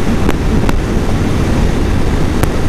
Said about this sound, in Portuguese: Temos bastante barulho de vento